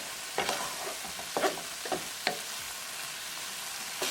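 Onion and tomato sabzi fries with salt, cumin, coriander, turmeric and garam masala while a spoon stirs it. A soft sizzle runs underneath, and sharp scraping strokes hit the pan about five times at a steady pace, close and clear.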